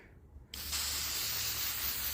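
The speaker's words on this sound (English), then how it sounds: "I'm not going to tell you how to spray paint." A can of silver spray paint hisses in one continuous burst. It starts abruptly after a brief quiet moment and holds at a steady, close, loud level to the end, with no talking.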